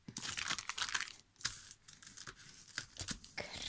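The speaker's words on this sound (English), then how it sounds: "I'm gonna take bone folder to make it" Bone folder burnishing the folds of a paper jeweler's envelope: close, quiet, irregular rubbing and crinkly scraping strokes in quick bursts with short pauses.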